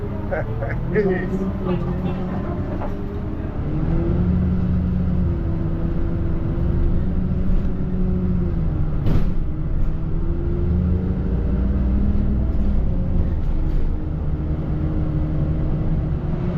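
Steady engine rumble and road noise from inside a public bus crossing an island toward the town of Madalena, droning continuously throughout with people talking over it.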